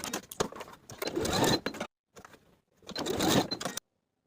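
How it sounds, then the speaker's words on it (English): A sewing machine basting the elastics and the edge of a dress panel, running close in two bursts with a brief stop between, whirring steadily with a rapid needle rhythm. "Then baste the opposite edge of the panel and the elastics in place."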